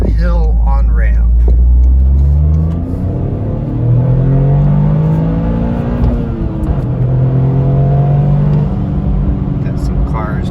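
Toyota GR Corolla accelerating up an uphill on-ramp, a loud steady engine rumble with rising tones as the revs climb and gears change, heard from inside the cabin throughout.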